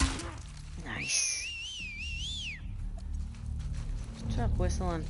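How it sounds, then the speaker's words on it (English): A person whistles a wavering, sliding tune for about two seconds, loud and close, over game background noise from The Last of Us Part II, with muffled voices around it. "Stop whistling."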